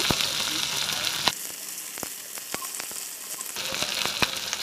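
Cumin, chili and ginger pastes with salt sautéed in hot oil for a koi fish curry, giving a steady hissing sizzle dotted with crisp crackles and small pops, close and continuous.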